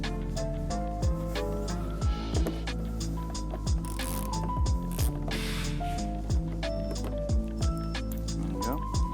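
A ratchet wrench loosening a rear diffuser screw on a 2021–2022 Dodge Durango, with rapid rhythmic clicking pawl strokes close up over background music.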